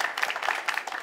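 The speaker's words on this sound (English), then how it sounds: "A massive round of applause for him." A school theatre audience applauds a student actor after a performance of Little Shop of Horrors, giving a short burst of dense, steady clapping heard up close with no voices over it.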